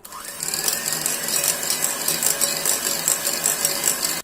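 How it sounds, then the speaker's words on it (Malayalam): Softened, room-temperature butter for chocolate chip cookies is beaten until creamy, making a steady, close mechanical whirring and rattling with a slight rhythmic pulse that runs unbroken for several seconds and then cuts off abruptly, with no talking. "അപ്പൊ ഇതാ നമ്മള് ബട്ടർ നന്നായിട്ട് ബീറ്റ് ചെയ്തെടുത്തു, നല്ല ക്രീമി ആയിട്ട് എടുത്തു"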